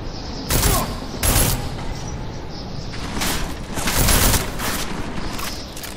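Bursts of gunfire in the Deus Ex: Mankind Divided video game, a few sharp loud volleys separated by short gaps, over a steady background hum.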